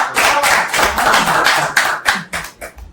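Hands clapping during a Hindi podcast conversation, a fairly close burst of individual claps, several people out of sync at first, then slowing into a few separate claps that trail off.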